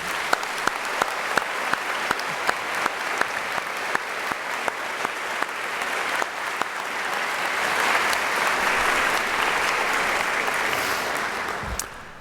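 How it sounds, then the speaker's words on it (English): Graduation-style audience at a 2024 White Coat Ceremony applauds a brass quintet; a few sharp claps rise into dense, swelling applause that builds over about twelve seconds, peaking near the end before cutting off. "we give them a round of applause?"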